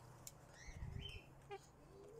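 Pigeons of a German Owl mix breed cooing nearby, a soft low murmuring coo with a few brief chirps and a wing flutter, heard alone without talk.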